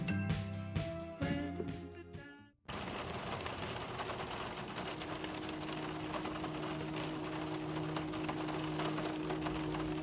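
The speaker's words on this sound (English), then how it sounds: "The next day, the weather was raining" Rain falls steadily as a dense, even hiss after a short burst of music cuts off, with a low hum running beneath it for the rest of the stretch.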